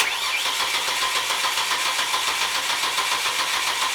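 A car engine cranks with a steady, even rhythm during diagnostic testing, loud and close, with no voices over it.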